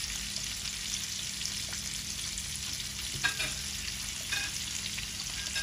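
Shrimp fry in hot oil with a soft, steady crackling sizzle at close range, joined by a couple of brief stirring scrapes near the middle.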